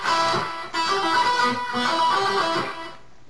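Slowed-down guitar riff from a song, played loud and continuous with sustained chords and shifting notes, a brief break near the start, then fading out.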